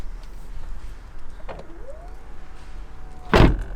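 A Rolls-Royce Wraith door shuts with a soft, heavy thud near the end, preceded by a brief electric motor whine as the frameless window glass moves, in a quiet workshop.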